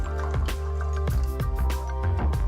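A cup of rice stirred by hand in a bowl of water for washing, heard up close as a series of wet squishing, sloshing swirls in a loose rhythm, with no talking.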